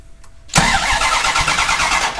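After a brief quiet moment, the starter of a Dodge 5.9L Magnum V8 kicks in and cranks steadily with a rapid rhythmic churning, loud and close.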